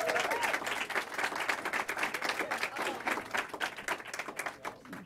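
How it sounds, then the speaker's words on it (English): An audience at an undergraduate fellowship colloquium applauds steadily, a dense run of handclaps from a roomful of people that gradually thins and fades toward the end. "Please give her a round of applause"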